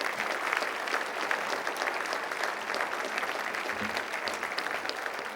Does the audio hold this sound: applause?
yes